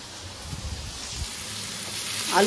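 Thick potato slices, skin still on, fry in hot oil with a steady close sizzle, and a louder crackling swell comes in at the end.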